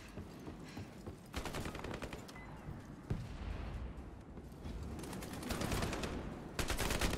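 Gunfire in a Call of Duty match, with a sniper rifle fired without scoping, sounds as dense, sustained shooting with repeated sharp bursts. Louder volleys hit near 1.5, 3, 5 and 6.6 seconds over a constant battle din, with no talking.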